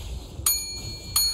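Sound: bell chime in League of Legends broadcast

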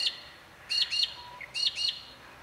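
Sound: birds chirping outdoors

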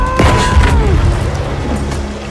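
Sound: Lunge Mine explosion in video game Battlefield V

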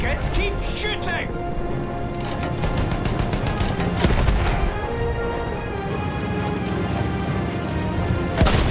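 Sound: gunfire from a tank battle in a video game

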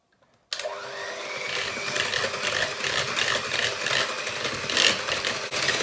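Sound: electric mixer beating eggs and lemon juice at high speed

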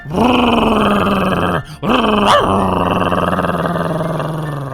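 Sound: dogs fighting in Minecraft video game

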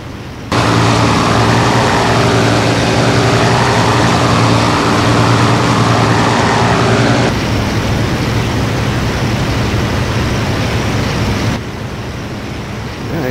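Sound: fighter aircraft engines in IL-2 Sturmovik video game

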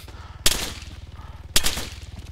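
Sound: gunfire in Arma 3 video game

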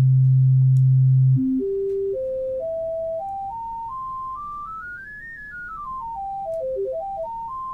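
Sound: sine wave harmonics

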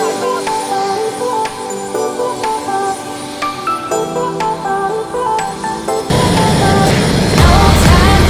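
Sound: helicopter flying over New York City

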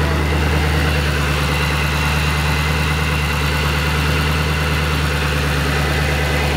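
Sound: 2008 Shelby GT500KR engine idling with Whipple supercharger

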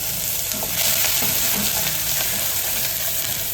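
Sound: onions and whole garlic sautéing in a pan for tomato soup

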